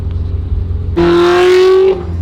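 A Ferrari sports car passes close by at a car meet, its engine rising into a loud, steady rev for about a second before fading back into the low background rumble.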